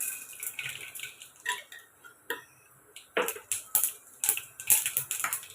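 Mustard seeds spluttering and popping in hot oil in a home kitchen, heard as a scattered run of sharp, close crackles and pops in uneven bursts, growing denser toward the end, with no talking.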